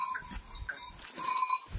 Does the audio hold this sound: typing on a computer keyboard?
no